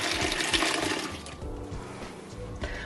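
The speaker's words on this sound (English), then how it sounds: "take the new batch of water and slowly and evenly pour it over" Water is poured into a pan over a batch during home beer brewing, a close, loud rushing splash that runs continuously and fades slightly toward the end.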